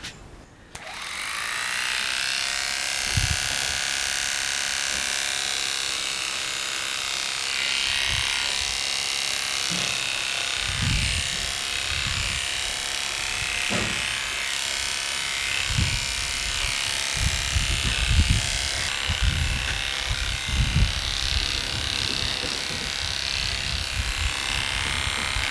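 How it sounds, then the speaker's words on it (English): Electric dog clipper fitted with a 3mm head trimming the flat top of a Bouvier's head, a loud steady close buzz with bumps and scrapes as the blade moves through the coat. "I'm gonna trim down the flat part of his head and his ears with a clipper"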